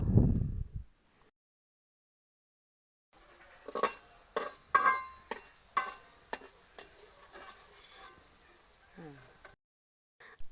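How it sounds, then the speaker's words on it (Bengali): Shushi pitha, small Bengali rice-flour dumplings, stirred and fried in hot oil over a low flame, with a sequence of close scraping and clinking spoon strokes against the pan over a soft sizzle. "হালকা আঁচে সবগুলো শুষি নেড়ে ছেড়ে ভেজে নেব"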